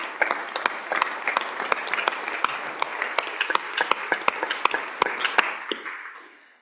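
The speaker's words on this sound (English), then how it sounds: "Let's give her a big round of applause." Legislators in the Wyoming Senate chamber give a round of applause, many hands clapping in a steady, fairly close patter with sharp individual claps standing out, tapering off at the end.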